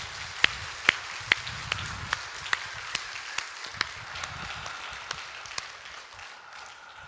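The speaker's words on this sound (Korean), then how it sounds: "한번 박수 크게 해주십시다." A church congregation claps at a centenary thanksgiving service. Sharp single claps ring out in a steady rhythm close by over a soft, distant wash of clapping, then thin out and fade.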